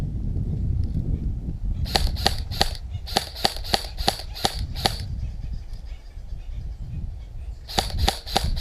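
A G&G Combat Machine M4 airsoft rifle fires BBs outdoors in sharp snapping shots: a quick burst of three, a rapid string of about six, a pause, then four more, over faint background noise.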